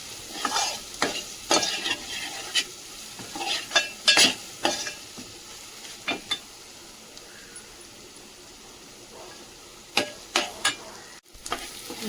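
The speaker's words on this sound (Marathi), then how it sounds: "हे मसाले टाकते मी आता सर्व, काळं तिखट, मीठ वगैरे सर्व. परतून घेते मसाले सर्व." Chili powder, salt and other spices sautéing in a pan for dry mutton, a low sizzle under a run of crisp, uneven spatula scrapes and taps that come in clusters and then pause before resuming near the end.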